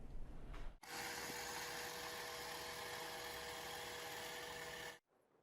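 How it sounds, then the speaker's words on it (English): An iRobot Roomba 692 robot vacuum starting up, a sudden loud steady whirring motor and brush hum that runs evenly for about four seconds at close range before cutting off. "Okay, I'll tell Roomba to start vacuuming."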